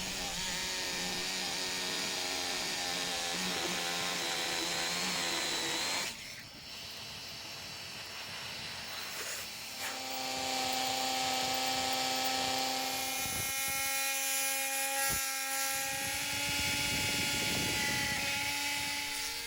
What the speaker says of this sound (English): The multi-tool goes through the fiberglass really easily and it leaves a nice neat thin cut.